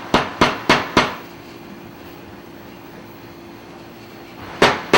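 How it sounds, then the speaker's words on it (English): A part is tapped onto the seat shaft of a VW Thing Type 181. Four quick, sharp metallic taps come in a row, then a pause over a faint background hum, then two more taps. "Tap it to where it comes through about 1/8 of an inch on the end."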